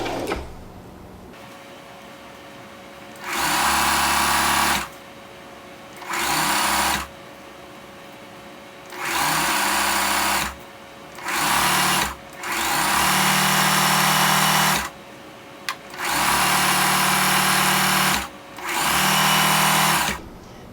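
A sewing machine stitches a skinny scrunchie's fabric tube in repeated loud bursts of a second or two each, with short quiet pauses between runs as it stops, backs up a couple of stitches and starts again.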